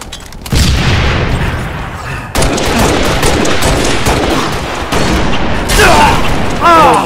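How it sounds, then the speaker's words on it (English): Grenade explosions go off during a Halo: Reach multiplayer clan match. Several loud, close booms land in quick succession, mixed with rattling gunfire and other game effects. "Grenades."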